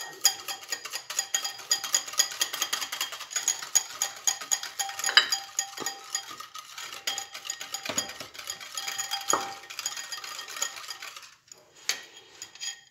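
Vanilla, sugar and oil being stirred together with eggs in a bowl for chocolate pancakes, giving a steady run of light clinks and scrapes of a utensil against the dish, close and unhurried, with no talking.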